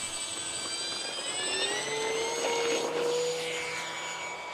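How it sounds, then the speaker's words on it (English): An X-Fly DHC-6 Twin Otter electric RC foam plane on a 6-cell battery flies past, its twin electric motors giving a rising and falling whine with a Doppler pitch sweep as it passes by outdoors. "with a freshly charged 5000 mAh 6-cell battery fitted let's see how she flies"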